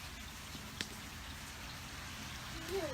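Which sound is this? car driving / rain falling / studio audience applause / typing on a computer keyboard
rain falling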